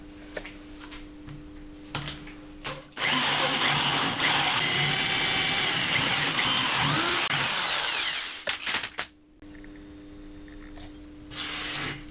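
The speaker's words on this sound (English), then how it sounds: "Now I need to drill a hole inside the trigger guard" A power drill whines at high speed for about five seconds, boring steadily through a wooden speargun stock inside the trigger guard, then stops; a few short clicks and bumps follow.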